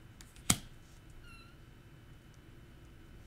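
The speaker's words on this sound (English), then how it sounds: "You may hear him meowing." A single brief kitten meow rises once over a quiet indoor background, with faint low rumble and no talking.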